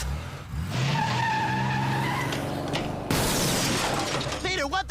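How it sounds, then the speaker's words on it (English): A cartoon car crash: a long tire skid and engine whine build up, then glass shatters and metal debris clatters loudly, all dense and close. "he ended up crashing into Glenn's car while he was heading to work"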